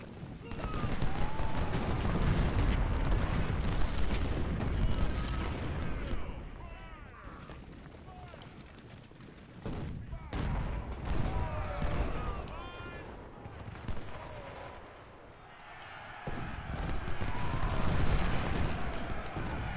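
Cannon artillery booms repeatedly in a video game battle at a river crossing, heavy blasts and crackling volleys surging and fading across the battlefield while someone comments over the gunfire.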